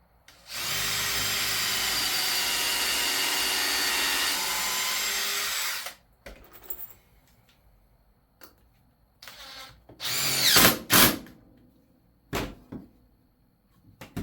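Power drill driving a screw into scrap wood for a birdhouse, one loud sustained whir of about five seconds, then scattered knocks and short bursts of handling noise.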